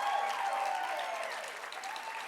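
Audience at a nursing excellence awards ceremony applauds and cheers a winner, a steady wash of clapping with whoops that slowly fades slightly, at moderate loudness.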